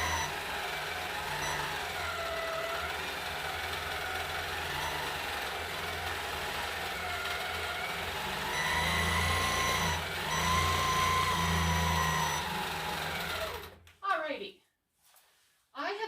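A quilting machine stitching a basting line across quilt batting and backing. It gives a steady, close motor whir with a gently wavering pitch for about fourteen seconds, then stops, leaving a few faint knocks.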